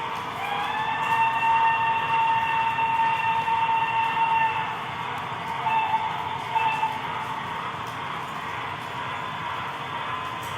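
A Broadway Limited Imports PRR I1sa Decapod model locomotive runs continuously on a layout, giving off a steady mechanical whine with tonal sound-system chuffing, moderately close, with no talking.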